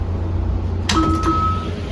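A two-tone door chime sounds on a DC Metro automatic train as the doors open, ringing clearly over the steady low rumble of the car.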